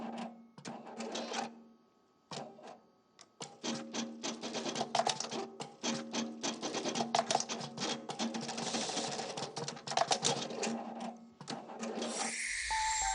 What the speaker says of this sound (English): Here's a sewing machine that's specialized for button neck wrapping.